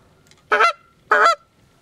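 Two loud, close honks from a goose flute call imitating geese, evenly spaced, each short and reedy, with near silence around them.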